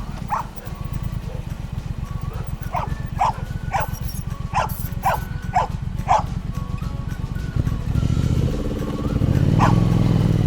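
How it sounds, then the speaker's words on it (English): A dog barks repeatedly at passing motorcycles, sharp yips in a rough rhythm over the steady nearby engine rumble, with another bike growling louder near the end. "I don't think that dog liked the bikes."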